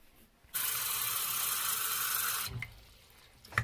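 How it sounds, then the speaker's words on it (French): Tap water gushes loudly into a sink for about two seconds while fingers are rinsed, then cuts off, leaving quiet handling noises. "Je vais aller chercher de l'eau, là. Puis je vais aller me laver les doigts."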